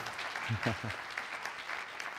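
Audience applause at a conference opening, a soft, fairly distant patter of clapping with a short burst of speech or laughter layered over it early on.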